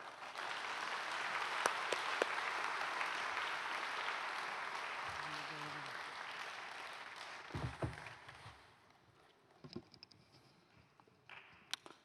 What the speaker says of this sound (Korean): 박사님 나오실 때 박수로 환영하겠습니다